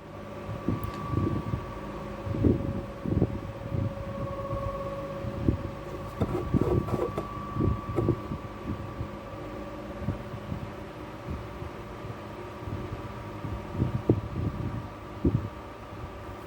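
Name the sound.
plastic welder melting plastic on bath bomb press attachment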